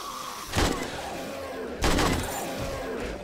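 Two loud gunshots from a gun in the Darkness Falls mod of 7 Days to Die, spaced about a second apart, each with a short echoing decay over a low background hum.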